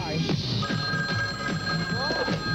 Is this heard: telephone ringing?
yes